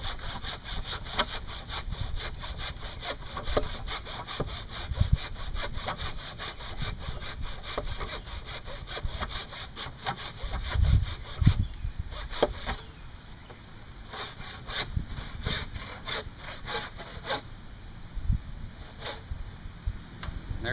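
A hand saw cuts through sappy wood while building a raised garden bed, giving steady rasping back-and-forth strokes that sound close and even, with no talk.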